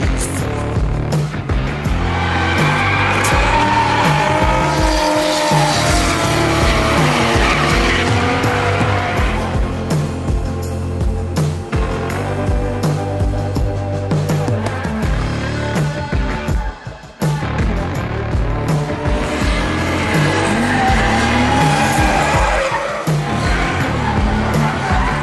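A race car tests at the Three Sisters circuit, its engine roaring loud and close with screeching tyres and gear-change dips across a long continuous run.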